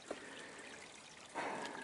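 Small stream of water trickling out of an old mine adit near a creek, a faint steady outdoor trickle with a brief louder splash toward the end.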